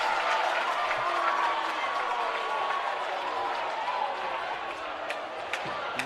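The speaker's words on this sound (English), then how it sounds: "And this crowd is electric." A crowd roars and claps in a gym during a girls high school basketball sectional game, a sustained loud wash of noise with sneaker squeaks and a few sharp peaks near the end, and no clear speech.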